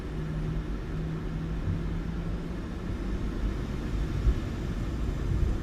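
Jet engines of a PMDG Boeing 737-800 spool up for takeoff in Microsoft Flight Simulator 2024, a steady, dense low roar and hum holding constant throughout with no talking.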